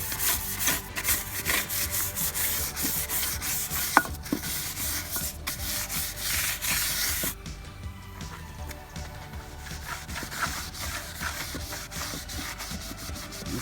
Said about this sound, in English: The Scotch-Brite really get in those cracks and crevices around the rim edge.